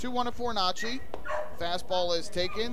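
Dogs barking and yelping in the crowd at a minor-league baseball game during a Bark in the Park event, short yips scattered under a play-by-play announcer's continuous talk.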